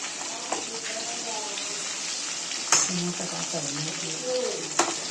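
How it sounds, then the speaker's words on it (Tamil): Chicken frying in a pan on a medium flame, a steady bubbling sizzle with occasional spatters and a couple of utensil clinks, while a person talks over it. "இப்போ நல்லா வெந்தாச்சா, நல்லா பொரிஞ்சிச்சு"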